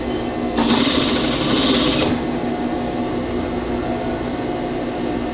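A sewing machine stitches along the fold of a boys' pants leg being altered into shorts, giving a brief, close, rapid mechanical whirr of about one and a half seconds over steady room hum.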